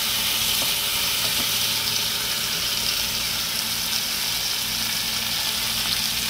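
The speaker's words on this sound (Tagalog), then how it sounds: "luto ako ng gulay" String beans, bitter gourd, eggplant and tomato frying in a pan, with a loud, continuous, even sizzle and no talking.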